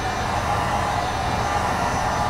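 A steady, even rush of hot air blowing from a heat gun, constant and close, with no breaks or voices.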